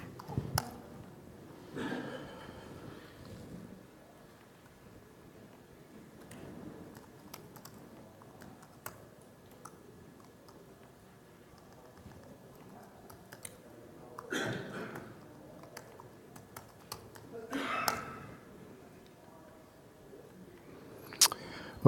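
Sparse clicks of typing on a computer keyboard while logging into a web GIS portal, faint and irregular, with a few quick bursts of keystrokes and occasional quiet speech.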